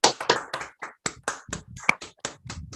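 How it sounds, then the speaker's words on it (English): A single person claps by hand into a microphone during an online Zoom meeting, about a dozen sharp, close claps at an uneven, quickening pace over a few seconds. "let's hear a real loud round of applause for all the speakers, the evaluators, and the team of helpers this evening."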